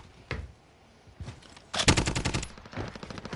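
Automatic gunfire crackles in Call of Duty Warzone: a single sharp shot, then rapid bursts of close, loud rounds that rattle in quick succession, with a second, weaker burst at the end.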